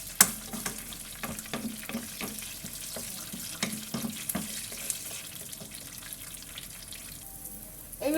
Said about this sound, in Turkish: şimdi şehriyerim kavruldu